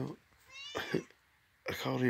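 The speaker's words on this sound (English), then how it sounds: "I called in a cat." A pet cat meows indoors, several close, drawn-out cries separated by short pauses, with a person's voice nearby.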